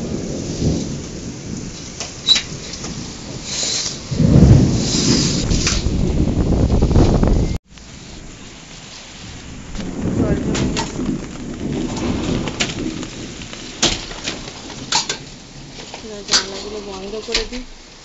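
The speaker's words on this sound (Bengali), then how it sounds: "নালে বৃষ্টির প্রচন্ড জোরে বৃষ্টি পড়ছে" Heavy rain pours down during a thunderstorm, a loud, steady roar with rolling thunder rumbles and a brief cut partway through, while a few birds call and a voice speaks at times.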